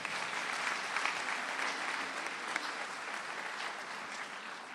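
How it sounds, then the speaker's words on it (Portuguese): An audience applauds in a church, a steady dense wash of clapping held at an even level from start to finish with no voices above it. "Salva de palmas para eles também."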